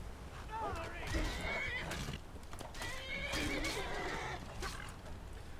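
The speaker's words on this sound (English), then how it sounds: "Now you made my horse angry." A horse in the video game Skyrim lets out loud, agitated whinnies and neighs, along with clip-clopping hooves, filling the short stretch with no talk.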